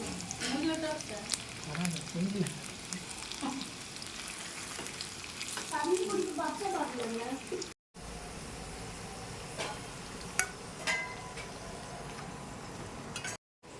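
Onions sautéing in oil for a Chennai-style wedding biryani, a steady sizzle with occasional stirring scrapes, broken by two brief silent gaps, with voices talking over parts of it.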